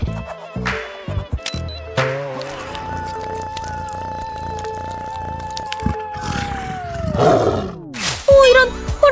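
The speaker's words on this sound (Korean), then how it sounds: "오, 이런! 호랑이가 우리를 발견했어요!" A tiger roars in a cartoonish, theatrical way amid other staged sound effects: a long rising and falling growl, then sharper bursts toward the end, loud and close.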